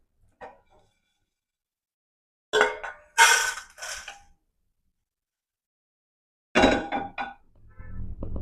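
Roasted spices scraped and tipped from a pan onto a plate, a few short clinking, rattling bursts separated by quiet pauses.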